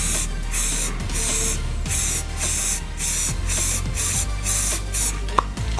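A spray can applies a second coat to a mug being customized, producing a steady series of about eight short hissing bursts with brief pauses between them, close and loud with no talking.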